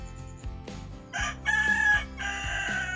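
A rooster crows loudly and close by, several drawn-out calls in a row, with a harmonic, strained quality and short breaks between them.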